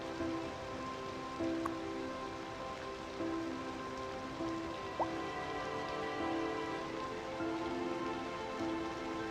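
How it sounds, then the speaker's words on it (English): Rain falls steadily in the city-building game Cities Skylines II, a continuous soft hiss with faint scattered taps and a low background hum throughout. "Is the rain boiling?"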